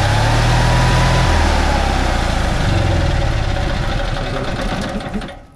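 Onan RV generator cranked by shorting two terminals together, then running steadily at close range, a loud continuous engine drone that fades out at the end.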